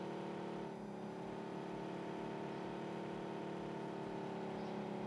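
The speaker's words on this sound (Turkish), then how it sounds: "Araba sesi mi duydum yoksa sakmadı va bilemiyorum. Hı, tam arabaymış." Steady in-game car engine from PUBG Mobile, a continuous droning hum with sustained tones holding at an even, fairly loud level throughout, no talk over it.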